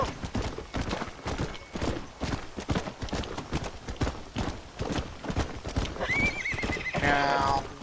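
Horse hooves clip-clop steadily and a horse neighs near the end in Red Dead Redemption: Undead Nightmare, with a player's voice sounding over the galloping throughout.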